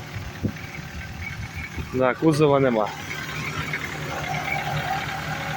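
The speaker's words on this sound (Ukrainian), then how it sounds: "моторчик класно працює, але кузова нема" A Mazda car with a badly deteriorated body and a smoothly running engine idles nearby with a low, steady hum. Someone talks over it briefly.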